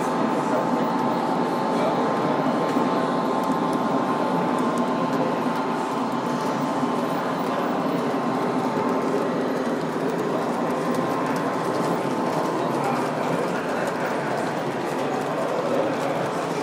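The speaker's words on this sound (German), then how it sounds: "Und hier kommt nochmal die V200, die schauen wir uns auch nochmal in aller Ruhe an." A Märklin gauge 1 model train with a V200 locomotive runs steadily past at a model railway meet in Munich, giving a continuous loud rumble and clatter over a busy hall.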